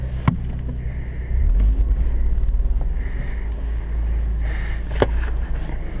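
An Abarth 595 Competizione on the Silverstone circuit gives a deep engine rumble that swells after a quiet start and stays close and steady, with wind buffeting and a few sharp knocks.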